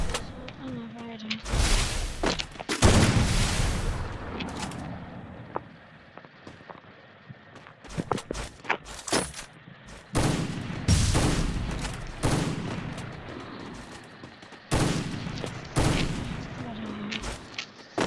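Sniper rifle shots ring out in a video game, several sharp, loud cracks spaced a few seconds apart, each trailing off in a short echo, with game background noise and occasional voices in between.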